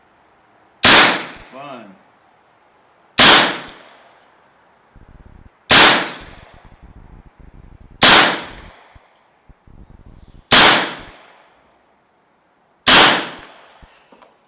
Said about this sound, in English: So I'm actually shooting high and letting the pellets drop